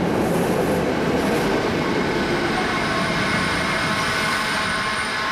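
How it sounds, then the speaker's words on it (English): A tram rumbles in close by in Budapest, a steady loud rolling roar of wheels on rails with faint high squeal, continuous throughout with no talking. "So here comes the train now. The tram, I should say."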